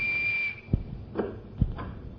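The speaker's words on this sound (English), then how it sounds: "Now I'm going to show you how a whistle can be a door key," A single shrill whistle tone sounds for about half a second, followed by a few soft thumps and knocks.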